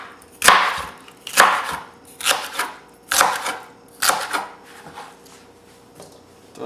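Celery being chopped with a knife on a cutting board for meatloaf, a series of about six loud, close bursts of quick blade strokes spaced roughly half a second to a second apart, with no talking.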